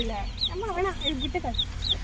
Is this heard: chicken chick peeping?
yes